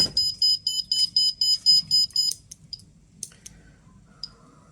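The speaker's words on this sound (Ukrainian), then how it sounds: "як клацання щелчки участили," Rapid electronic clicking from an SBM-20 Geiger counter in a tight regular burst, accompanied by a beeping alarm, then sparse scattered clicks as the alarm stops.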